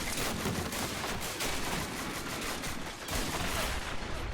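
Dense, continuous rifle and machine-gun fire rattles through a WW1 winter trench battle in a video game, with German troops storming French defenses; overlapping shots and bursts crackle steadily at moderate loudness with no clear pauses.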